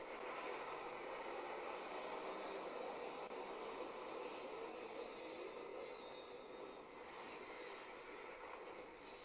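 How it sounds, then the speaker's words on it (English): Spaceship landing engines in the video game Starfield, a steady broad roaring rumble with airy hiss that holds at constant loudness throughout, easing slightly near the end, with no talk over it. "Starting landing procedure."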